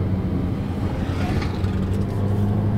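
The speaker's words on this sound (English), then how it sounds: "We're currently driving the Porsche home." Steady engine drone from inside a moving Porsche sports car at night, a low continuous rumble with a brief rise in revving, no talking.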